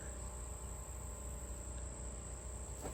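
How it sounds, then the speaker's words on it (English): Insects chirp in a steady, continuous drone outdoors on a disc golf course, a constant high-pitched buzzing bed with no voices over it. "You can hear the bugs out here."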